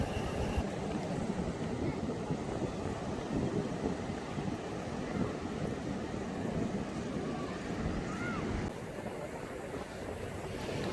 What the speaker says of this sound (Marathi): माडबन समुद्र किनाऱ्याला पोचलो आहोत